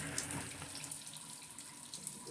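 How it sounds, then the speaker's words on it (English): Water keeps trickling and splashing from a low-pressure toilet after a failed flush, a faint, continuous running sound with small irregular spatters, no voices. "I'm surprised water's still coming out, but the toilet didn't flush."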